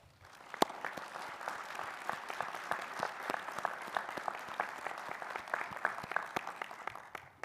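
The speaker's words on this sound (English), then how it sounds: "please join me in a round of applause for your loved ones" A graduation audience at an optometry college ceremony claps together in a dense, steady round of applause that swells quickly and holds evenly throughout, with no voices.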